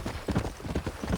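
Horse hooves clip-clopping at a steady gallop in the Red Dead Redemption video game, a quick rhythmic series of hoofbeats heard close and fairly quiet.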